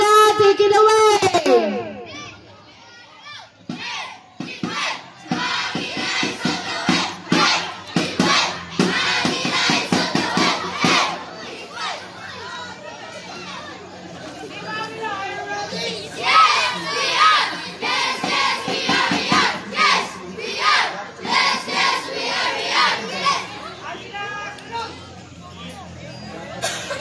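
Children of the Patrol Agila group shouting a rhythmic yell routine, loud chanted bursts and cheers with crowd hubbub and clapping underneath, an announcer's voice briefly at the start.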